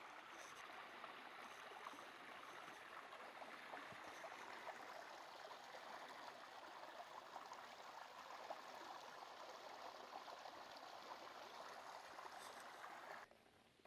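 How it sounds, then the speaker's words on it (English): A steady rush of creek water tumbling over rocks near Gooch Mountain Shelter on the Appalachian Trail, continuous and even throughout, fairly close with no voices, cutting off abruptly at the end. "Listen to that water run."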